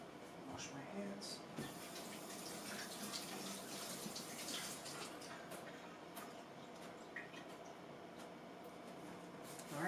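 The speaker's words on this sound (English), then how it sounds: "Wash my hands." Tap water runs steadily for a wash of the hands in a home kitchen during cooking, a soft continuous splash and trickle with faint hiss throughout, close and quiet.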